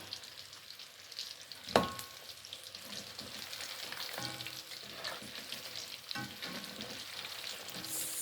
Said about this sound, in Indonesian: Kita goreng sampai kemasan ya Bunda, agar matang sempurna.